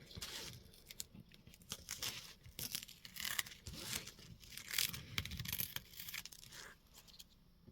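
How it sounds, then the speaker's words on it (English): Masking tape is peeled off paper in a run of quiet ripping and crackling pulls, close up and faint, in irregular bursts with no voice. "And now I'm going to pull up the masking tape."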